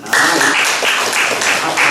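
A church congregation bursts into brief, dense applause that starts abruptly and holds steady for under two seconds, with faint voices mixed in.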